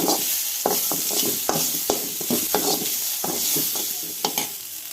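Kotti kilangu tubers stir-fried with chilli powder in a pan, a steady close sizzle broken by repeated sharp scraping stirs of a spoon, no voices.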